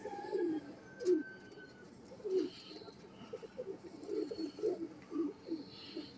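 High-flying pigeon cooing in a run of soft, low, rounded coos spread across several seconds, fairly close with a faint ambient background.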